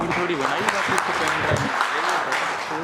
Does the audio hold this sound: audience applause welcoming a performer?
yes